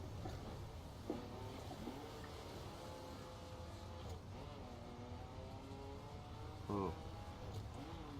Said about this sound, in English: I'd have to say it's a fairly fast vehicle